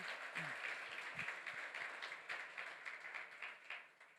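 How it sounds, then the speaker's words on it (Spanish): A church congregation claps during a service, a faint, distant patter of many hands heard as a steady low wash throughout, with no voices over it. "usted les dé un aplauso a ellos que nos están mirando a través de las redes sociales"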